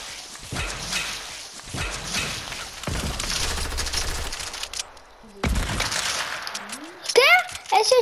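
Bursts of gunfire in a battle video game with rifles such as a Scar and a P90, several loud rapid volleys separated by short pauses, with players talking over the shooting.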